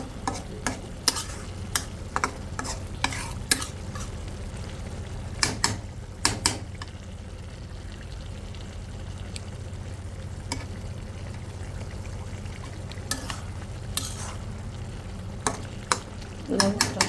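Fish and leafy greens cook in a pan with a steady sizzle, broken by repeated sharp scraping stirs.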